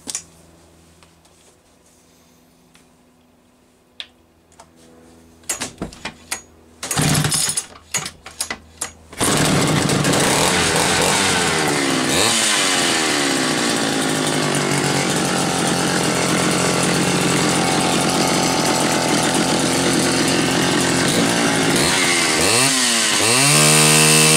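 A Homelite Super 1130G chainsaw with a freshly cleaned carburetor sputters through a few brief bursts, then catches and runs loud and steady, its engine note rising and falling as the throttle is revved.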